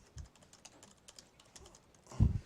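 Computer keyboard typing, a quick run of light close key taps ending in a heavier thump or two, alone with no talk.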